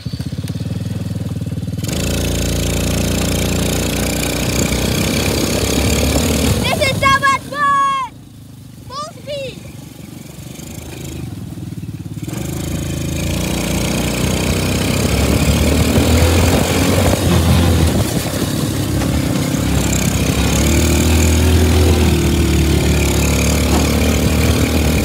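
Small go-kart engine running steadily at close range on a two-lap ride, with a brief drop around the middle and a rising drone afterward, voices talking over it.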